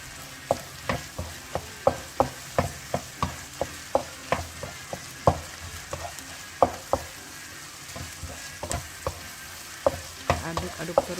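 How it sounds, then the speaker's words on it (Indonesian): Spices are stirred into a sautéed mixture for Indonesian village-style fried rice, with sharp, regular spatula knocks against the pan over a soft sizzle, repeating roughly every half second. "Semua bumbu-bumbunya kita masukkan dan kita aduk dengan tumisan yang tadi udah kita tumis secara merata."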